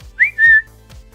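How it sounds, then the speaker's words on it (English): A person whistles two quick rising-then-level notes, a short clear whistle in an otherwise quiet moment. "A perfectly timed whistle."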